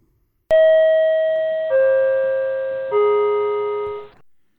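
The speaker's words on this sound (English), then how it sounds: "Subway chime, go!" A three-note descending subway door chime sound effect, each tone ringing clearly and decaying before the next, loud and alone against silence.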